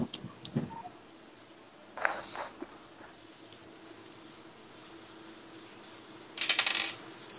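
Dice clatter across a table in a few brief, faint rattles, the last burst the loudest, with quiet room noise in between.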